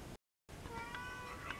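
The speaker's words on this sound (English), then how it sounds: "as soon as I turn the camera on, you always stop meowing at me" A pet cat meows indoors, a faint drawn-out tonal meow with a second softer cry shortly after, following a short dropout at the start.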